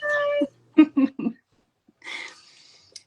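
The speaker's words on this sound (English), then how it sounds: "there's a cat trying to get into my room" A cat meows several times at a closed bedroom door, trying to get in; short nasal cries come close together and then one longer, breathier call follows after a pause, with no talk over them.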